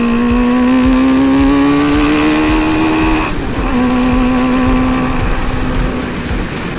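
High-mileage motorcycle engine with about 38,000 miles, running loudly and steadily close by, its pitch rising slowly, dipping briefly and then holding an even drone, with no talk.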